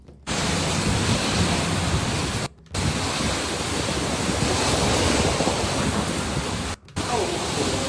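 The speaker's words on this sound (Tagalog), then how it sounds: "Grabe yung hangin." Powerful typhoon wind roars continuously against the microphone, a dense, buffeting rush broken by two brief dropouts.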